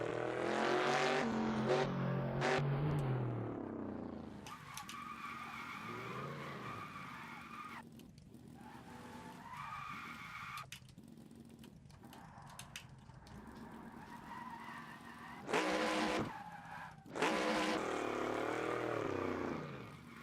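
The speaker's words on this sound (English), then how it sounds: "So here's where I'm gonna take my time and do my victory burnout for the crowd." NASCAR Gen 3 car doing a victory burnout at Pocono Raceway in the Assetto Corsa racing game: a sustained, raspy engine roar with squealing tire skids that swell and fade over about twenty seconds, with no talking.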